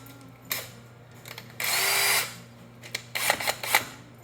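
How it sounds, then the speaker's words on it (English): A power drill works on the teardown of a small 2-stroke engine, giving several short, loud close-up whirring bursts, one longer sustained run in the middle, and quieter handling clicks between them. "I'm going to use a drill on some things, so it will be loud"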